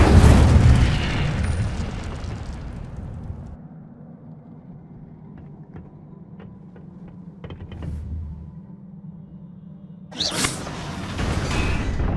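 Incendio fire spell cast in Hogwarts Legacy, a loud booming burst at the start fading into a low rumble with faint magical ticks, then a second bright whooshing burst near the end.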